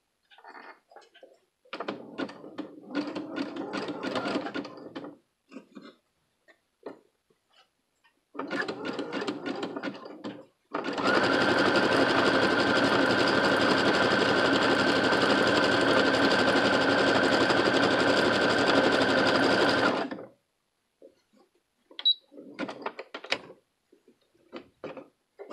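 Sewing machine running a zigzag stitch with a presser foot from a 52-piece kit, set to 3.5 width and 2.0 length; a steady continuous whir of about nine seconds, with shorter bursts of stitching before and after.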